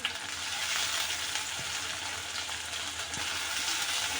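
Chopped garlic and a small tomato sauté in a pan with a soft, even sizzle that runs continuously at moderate volume.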